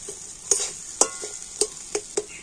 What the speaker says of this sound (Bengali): তো আবার আমি সমস্ত কিছু একটু ভালো করে নাড়াচাড়া করে নেব